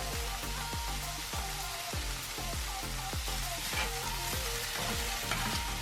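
Okinawan bitter melon and bonito flakes sizzling in a pan as goya champuru is stir-fried, with steady frying hiss and regular rhythmic scrapes of stirring throughout.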